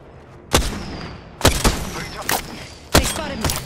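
Gunfire in the battle-royale game Apex Legends: three or four sharp, loud broadband shots and short bursts spaced about a second apart, each with a brief ringing tail over a low background rumble.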